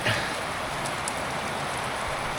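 Steady rain falls on an Irish homestead, making a continuous even hiss with no other sounds over it.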